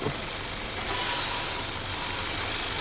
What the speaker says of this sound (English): Engine runs fairly quiet.